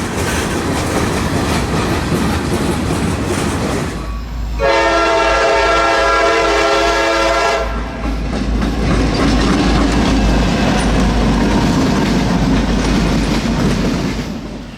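A CSX freight train out of Thomas Rice Yard in Waycross, Georgia, bound for Okeechobee and Hialeah, Florida, rumbles past close and loud, its horn sounding a long steady chord midway through the pass over continuous wheel and rail noise.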